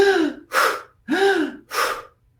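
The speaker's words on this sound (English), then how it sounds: "I'll just give you an example of sympathetic nervous system breathing. It emphasizes the in-breath." A voice demonstrates stressed, panicked breathing: four sharp, rapid in-breaths and out-breaths alternating in a quick rhythm, close and clear with no talk.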